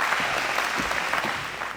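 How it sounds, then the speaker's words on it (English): Loud, close applause from a crowd at a senior class luncheon honoring graduating classmates, a thick continuous patter of many hands holding steady throughout. "How about another round of applause for my two incredible classmates?"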